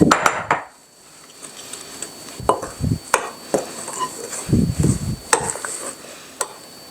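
Spoon or spatula clinks and scrapes against a mixing bowl as milk and sifted dry ingredients go into an egg mixture for a 1973-style cherry nut quick bread, with scattered irregular knocks at close range.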